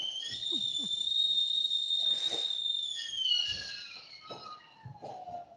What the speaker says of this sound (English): my kettle's just whistling